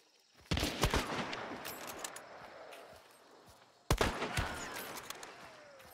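Video game gunfire from another player: a sharp volley of shots opens loudly, trails off into rattling echoes, then a second burst of rapid fire erupts near the end.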